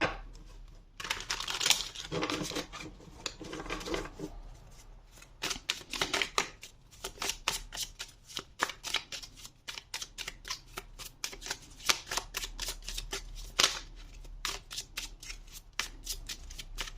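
Tarot cards being shuffled by hand, a rapid run of close crisp riffling and flicking snaps that goes on for the whole stretch with brief pauses, and no talking.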